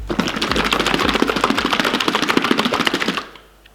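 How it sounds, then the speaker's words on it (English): A bottle of Meguiar's Ultimate Polish is shaken hard, giving a fast, loud, rhythmic rattle of liquid knocking inside plastic that runs for about three seconds and then stops abruptly. "So first thing to do, give the bottle a good shake."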